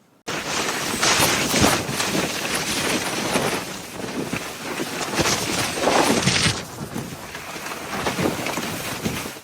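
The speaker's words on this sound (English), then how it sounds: "The Santa Ana winds is a weather phenomenon that creates strong wind along the coast." Strong Santa Ana winds roar in continuous gusty blasts against the microphone, loud and close, swelling and easing in rough waves with no voices.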